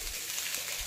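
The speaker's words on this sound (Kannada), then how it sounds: "ಮಸಾಲೆ ಕೂಡ ಅದು ಫ್ರೈ ಆಗಬೇಕು, ಒಂಚೂರು ಹಸಿ ವಾಸನೆ ಹೋಗುವವರೆಗೂ ಬೆಂಡೆಕಾಯಿ ಜೊತೆಗೆ ಮಸಾಲೆನೂ ಫ್ರೈ ಆಗಲಿ" Masala frying with okra in a pan, a close steady sizzle with a brief louder stirring scrape at the end, no voices.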